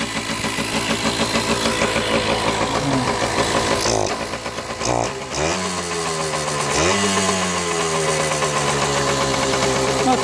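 A KD80 motorbike's small engine idles close by with a loud, steady buzzing rumble, briefly revved twice mid-way with rising and falling pitch before settling back to a low idle.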